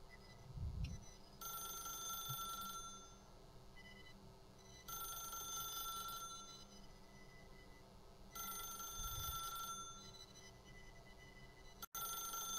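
Telephone ringing in The Stanley Parable video game: three long bursts of a bright electronic bell tone separated by short pauses, steady and moderately loud over a low room hum, no talk.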